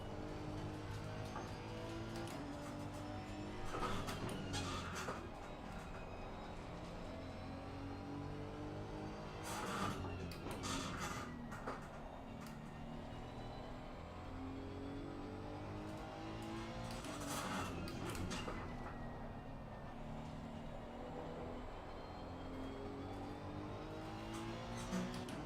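A race car circles a track with a steady engine drone, the revs rising and falling through gear changes and corners, loud and continuous throughout.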